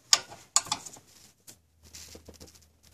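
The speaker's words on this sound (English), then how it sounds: "I'm going to put my 14mm wrench on there and sneak another wrench on top for leverage" A 14mm wrench, with a second wrench stacked for leverage, strains against nuts on a Toyota 5VZ-FE cylinder head, producing a few sharp metallic clicks and clanks followed by softer ratcheting ticks, close and quiet.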